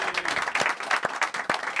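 A studio audience on a sports television show gives a round of applause for an arriving guest, steady crowd clapping with sharper individual claps standing out, fairly quiet and unbroken.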